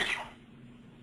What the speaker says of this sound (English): I kind of got a little bit of a cough going